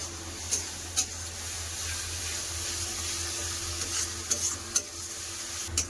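Ginger-garlic paste and onion fry in a pan with a steady, moderate hiss of sizzling, punctuated by a few sharp spatula clicks and scrapes.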